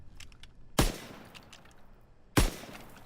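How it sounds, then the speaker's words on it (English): Two separate M1 carbine shots ring out on a firing range in Call of Duty WWII, each a sharp loud crack with a short decaying tail, spaced about a second and a half apart over a faint background. "I'm using the M1 carbine, and it's the firing range."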